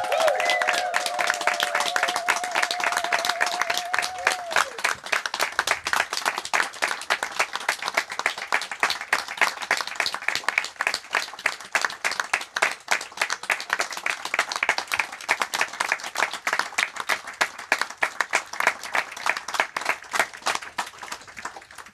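A large audience applauds at a closing ceremony, dense sustained clapping that stays loud and even for over twenty seconds, with a short sung or hummed tone fading out at the very start.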